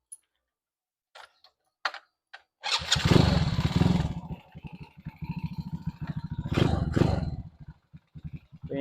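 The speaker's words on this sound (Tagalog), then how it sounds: "Start muna natin yung motor natin." A motorcycle cranks and fires up after a few faint clicks, then settles into a loud, close, steady idle with a brief rev near the end, no voices over it.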